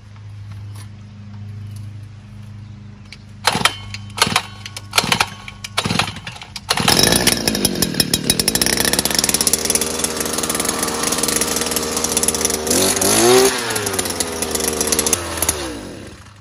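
A gas-powered earth auger for a wooden privacy fence build: a few sharp pull-start tugs sound first, then the engine catches and runs loud and close, revving unevenly through the rest.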